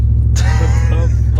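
A Ford F-150 pickup fitted with helper bags cruises through a neighborhood on a test drive, its steady low engine and road rumble droning inside the cab while faint voices talk over it.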